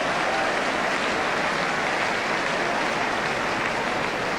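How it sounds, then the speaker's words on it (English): Crowd at a 1978 English football match between Ipswich and Nottingham Forest applauding a pass, a broad, even wash of clapping and stadium noise heard at a distance with no clear breaks. "Applause for both the pass and the attempt to collect."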